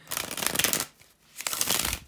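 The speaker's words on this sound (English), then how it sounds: "to give a good shuffle, a refill one to the cards" Tarot cards shuffled by hand in two quick riffling bursts separated by a brief pause, close and crisp, with no talking.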